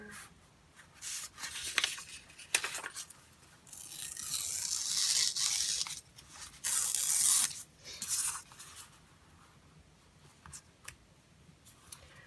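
Paper tears while journaling with stationery, heard as several close, dry ripping and rustling bursts of varying length between quieter pauses, with no talking.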